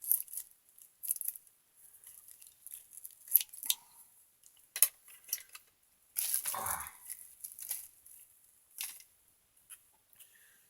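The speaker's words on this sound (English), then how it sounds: "You take a baggie, you cut off the size bag that you need." Scissors cut a plastic baggie down to size: a series of faint, crisp snips and crinkly plastic rustles close by, uneven in rhythm, with no talking.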